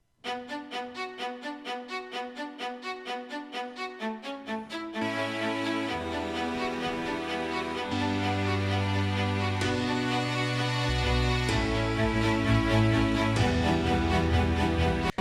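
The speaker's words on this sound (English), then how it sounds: "it's playing it arpeggiated, which just means like it's one note at a time" Bright strings pick out chords one note at a time in a quick, even pattern, then fuller layered parts and low notes swell in underneath.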